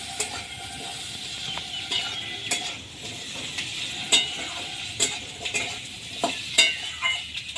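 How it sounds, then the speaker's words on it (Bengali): Cut potatoes fry in a pan for a mango and snakehead fish curry, with a soft sizzle underneath and a spatula clinking and scraping against the metal in irregular stirring strokes. "আলুগুলো দিয়ে কিছুক্ষণ একটু নেড়ে নেব।"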